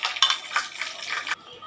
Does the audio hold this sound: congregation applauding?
no